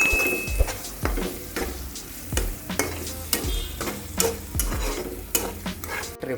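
Spiced mashed potato filling for aloo paratha, with turmeric and salt, is stirred in a hot pan. Sharp spatula scrapes and knocks against the metal recur at an uneven pace over a steady frying sizzle, close and clear, with no talking.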